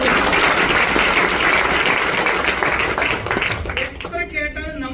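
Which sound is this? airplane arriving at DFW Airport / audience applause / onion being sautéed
audience applause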